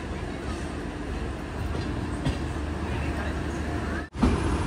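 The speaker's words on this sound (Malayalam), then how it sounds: "ഇപ്പം ഇതാ ചെന്നൈ എഗ്മോർ റെയിൽവേ സ്റ്റേഷനിലേക്ക് ട്രെയിൻ എത്തിക്കൊണ്ടിരിക്കുകയാണ്" A Humsafar Express pulls into Chennai Egmore station with a steady, loud rumble of the rolling train heard from on board, and a brief cut near the end.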